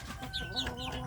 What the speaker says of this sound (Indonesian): anak ayam kampung yang diganggu oleh temannya